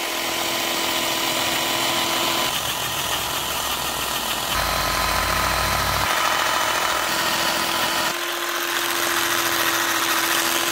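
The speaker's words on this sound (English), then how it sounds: "you're going to want to scrub off all the surface rust with some sort of metal wire brush, either by hand or with a drill like this" Drill spinning a metal wire brush against a rusty sway bar, a steady close whirring grind that shifts in pitch and load as the brush presses and scrubs, with no talking.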